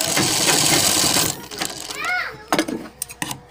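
A sewing machine runs in a steady, fast whirring burst while stitching a collar neckline, then stops as a voice and other voices chatter nearby.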